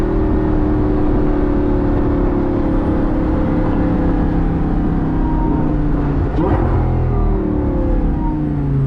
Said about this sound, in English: Listen to these downshifts. Sounds so good.